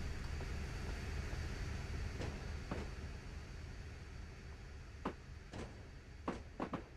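Train Simulator 2020 locomotive on the Saltburn to Boulby route rolling over harsh, rough track, a steady low rumble punctuated by several sharp clunks and bangs from wheels hitting rail joints, louder near the end.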